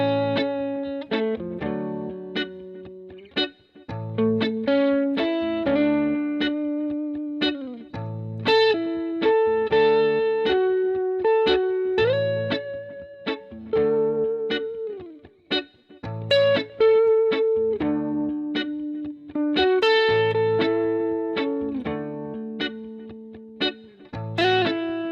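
Electric guitar plays sustained triads on a single string set with distortion and chorus-like shimmer, changing every few seconds in a steady, ringing progression.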